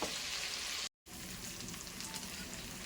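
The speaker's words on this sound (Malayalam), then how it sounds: "നമ്മുടെ ചിക്കൻ എല്ലാം നന്നായിട്ട് ഫ്രൈ ആയിട്ടുണ്ട് കേട്ടോ" Chicken pieces deep-frying in hot oil for a chicken curry, giving a steady close hiss and crackle that cuts out briefly for a moment and then resumes just as evenly.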